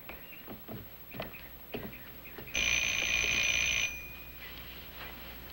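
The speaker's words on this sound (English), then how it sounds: "Get the buzzer." A buzzer sounds for roughly a second and a half, a loud, steady electric tone that stands out after a stretch of soft background clatter, then it cuts off into quiet room noise.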